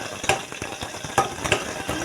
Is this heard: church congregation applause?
no